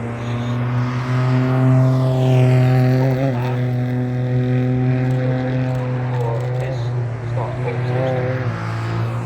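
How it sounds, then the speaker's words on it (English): Rally cars on a junior stage of the International McRae Rally Challenge give a steady engine drone with a sustained tonal hum that rises and dips slightly, loud and continuous, heard at a distance. "Cars heading next onto the track."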